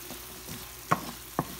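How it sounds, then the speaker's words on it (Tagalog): Potatoes sauté in a pan, a faint steady sizzle broken by two sharp scraping clicks of stirring, close and alone with no voices. "Lagay na natin ang patatas. Halo-haloin na. Igigisa din natin ito."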